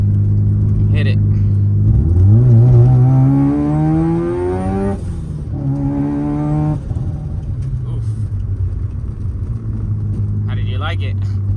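Turbocharged Mazda RX-7 engine pulling hard, rising harmonic whine sweeping upward through gears with a brief shift break, loud and close inside the car, steady rumble underneath.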